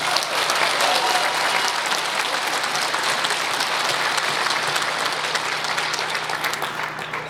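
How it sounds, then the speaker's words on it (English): Audience at Navajo Technical College applauding the Board of Trustees, faculty and administration: dense, sustained clapping from a large crowd, steady and loud throughout, with no talk over it. "please give them all a huge round of applause"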